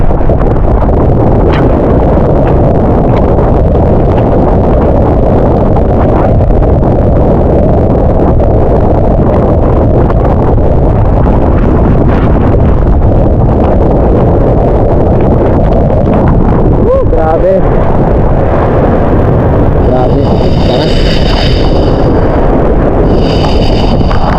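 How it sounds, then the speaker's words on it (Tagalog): Loud, constant roar of strong wind and rain during a typhoon at a fishpond, buffeting the microphone, with heavy rushing noise throughout and no speech. "biglang lumakas yung malakas na hangin at ulan"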